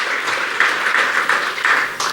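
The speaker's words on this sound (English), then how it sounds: "Let's give her a round of applause once again" Guests at a fundraiser gala dinner applaud a judge, a close, fairly loud burst of many hands clapping in a steady wash with no voices.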